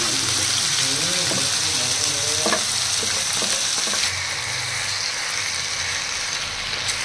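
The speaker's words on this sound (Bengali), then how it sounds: "এখন ব্রয়লারটা কষাতে দিয়ে দেবো আমরা।" Broiler chicken is being fried in a pan for chicken khichuri, producing a loud, continuous sizzle and bubbling with stirring scrapes. A voice-like tone is heard briefly near the start.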